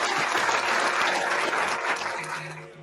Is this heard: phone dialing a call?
no